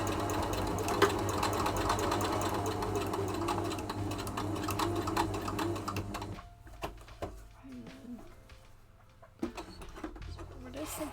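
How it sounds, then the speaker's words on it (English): A sewing machine runs steadily for a test stitch on a pair of shorts, a continuous close mechanical whir that stops partway through, leaving short bursts and quiet handling noises. "I do want to do a little test run, see if it's gonna sew."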